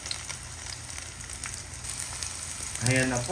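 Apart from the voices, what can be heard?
sautéing garlic, onion and ginger in a pan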